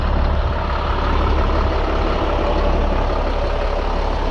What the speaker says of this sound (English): Pretty sure the exhaust is shot.